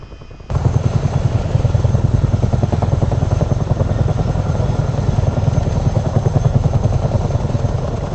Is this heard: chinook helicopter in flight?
yes